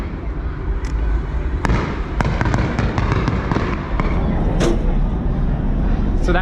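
Fireworks burst over Disneyland Resort at night, sharp pops and crackling reports firing in quick irregular succession over a steady roar of crowd and ambient noise, loud and close.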